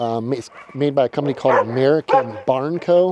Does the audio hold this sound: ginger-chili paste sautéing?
no